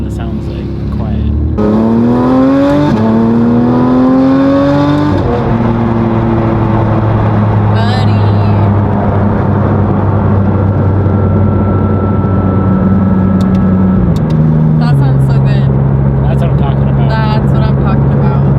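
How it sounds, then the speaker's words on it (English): Porsche 992 GT3RS with a titanium exhaust revving and droning close by, pitch climbing in stepped blips then holding a loud steady tone that shifts down in stages, with no talk over it. "That's what a GT3RS YSAC package should sound like."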